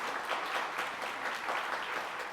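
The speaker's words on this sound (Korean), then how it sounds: "박수로 환영하시겠습니다" A church congregation claps to welcome a new member during Sunday worship, a steady, even wash of many hands clapping at once, fairly loud and without speech.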